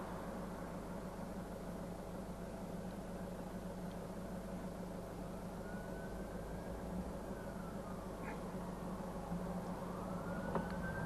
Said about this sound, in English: I can hear some sirens coming